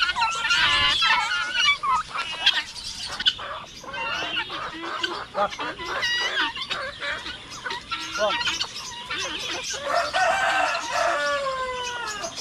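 Chickens cluck and squawk busily nearby with a rooster-like call among them, while someone talks over the noisy flock.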